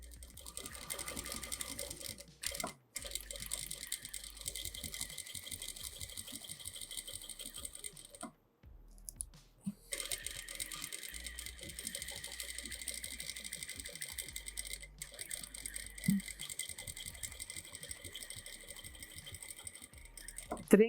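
A sewing machine quilts vertical lines along a fabric border in a patchwork lesson, running in long steady bursts of rapid stitching with a couple of brief pauses, close and continuous, while someone speaks over it.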